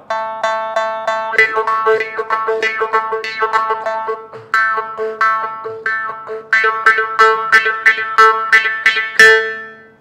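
A twangy morsing (South Indian jaw harp) plays a quick, rhythmic pattern at a steady drone pitch, with bright buzzing overtones and a few brief pauses between phrases.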